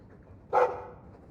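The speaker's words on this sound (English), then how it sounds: "He's a sweet dog" A dog in the Dragon Age 2 video game gives a single short, fairly loud bark-like sound against a quiet background.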